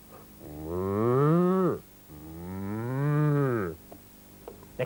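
A person imitating a cow, producing two long, loud, drawn-out moos in a row with a short pause between them, close and clear.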